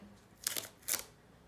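Paper crinkles and tears in two short bursts as a handmade paper surprise packet is opened, close and quiet, with no speech.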